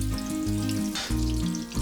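Butter sizzles and fries in a hot, oiled pan for an Indian shahi paneer base, a steady close crackle with low rumbling tones throughout and a brief burst of brighter spitting midway.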